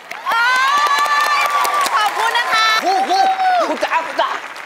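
A crowd cheers and shouts loudly at a folk song performance, steady and close throughout, with voices calling out over the noise.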